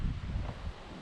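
A strong gale roars as a dense, low, rushing blast. It stays steady and loud the whole time, buffeting close to the microphone, with no voices.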